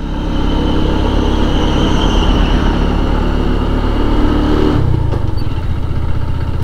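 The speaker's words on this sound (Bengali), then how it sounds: "এবার আর বাইক টানতে পারে না।" A motorcycle straining to climb a hilly road: a loud, continuous labouring engine drone that drops in pitch and loses power in the last couple of seconds.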